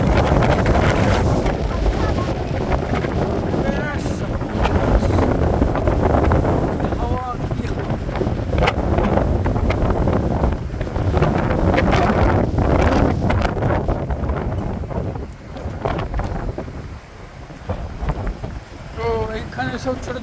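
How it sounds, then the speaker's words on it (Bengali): Strong wind at Brighton Beach, Melbourne, buffets the microphone with heavy, gusting roars and a surf-like rush that dips briefly toward the end, while a person speaks over it. "হাওয়া দিচ্ছে আজকে প্রচুর।"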